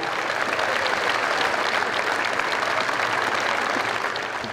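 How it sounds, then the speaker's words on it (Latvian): A large audience at a State Police anniversary celebration in Arēna Rīga applauds to welcome General Valdis Svoins, producing a dense, loud, continuous wash of clapping that stays even from start to finish. "Sagaidiet ar aplausiem arī viņu."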